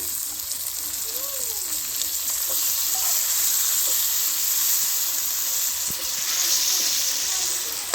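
Chopped tomatoes and onions fry in a pan over a village kitchen fire. A bright, steady sizzle and hiss carries on from start to finish, with a few faint clinks of stirring.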